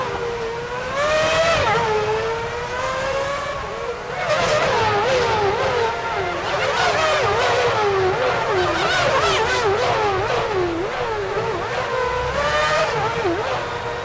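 Formula One race cars racing in Formula One Championship Edition, with Michael Schumacher's Ferrari at Indianapolis: high-pitched engines scream and rise and fall through gear changes, several cars overlapping, loud and continuous throughout.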